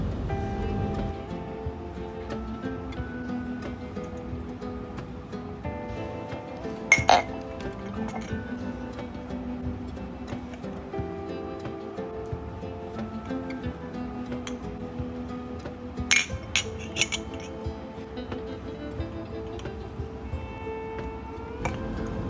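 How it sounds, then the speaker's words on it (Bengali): Glass flower vases wrapped in a table runner give occasional light clinks and taps against a quiet background, with two clusters of sharper chinks standing out. "আমার ফ্লাওয়ার বেসগুলি যেন ভেঙে না যায় সেজন্য যে টেবিল রানারটা আছে সেটা দিয়ে চারপাশে আমি মুড়িয়ে দিচ্ছি"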